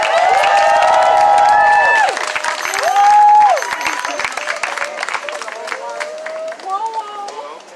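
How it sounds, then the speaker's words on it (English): Crowd at an abolition march in New York City clapping and cheering as Devin comes to the stage, loud and sustained at first, with whoops and shouts rising over the clapping before it thins into scattered claps and chatter. "Clap it up for Devin, everybody."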